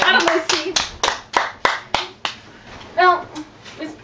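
A small audience gives a round of applause after a science experiment demonstration, with a few loud, sparse claps rather than a full ovation and a voice speaking briefly partway through.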